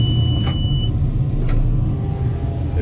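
Tractor engine idling heard from inside the cab behind a dirty window, a steady low rumble that stays close and constant, with two brief clicks and no talking.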